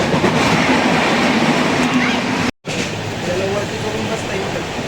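A passenger train on a Mumbai to Kerala journey rumbles steadily from inside the carriage, a loud continuous roar with faint rhythmic wheel clatter and a momentary dropout midway.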